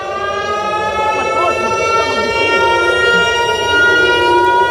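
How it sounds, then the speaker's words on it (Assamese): An air raid siren wails over Jerusalem, Israel, a loud sustained rising-and-falling tone with rich harmonics that fills the whole clip, while faint background noise sits underneath. "সমগ্ৰ ইজৰাইল সমগ্ৰ জেৰুজালেমত এই মুহূৰ্তত এক প্ৰকাৰ কঁপি উঠিছে চাইৰেন বাজি উঠিছে"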